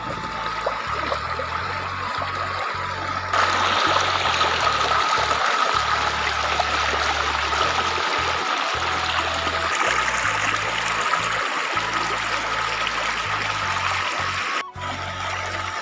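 River water flowing steadily, a continuous close babbling and trickling rush with low rumbling bumps, likely wind or handling on the microphone, and no speech.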